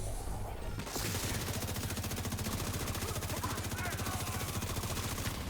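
Rapid automatic rifle fire with shock ammo in a video game rattles out after a brief pause, a loud sustained stream of evenly spaced shots.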